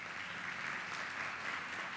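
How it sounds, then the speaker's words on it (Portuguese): A church congregation applauds steadily during a family worship service, a dense, even wash of many hands clapping at moderate distance, with no voices over it. "Dá um aplauso ao Espírito Santo de Deus."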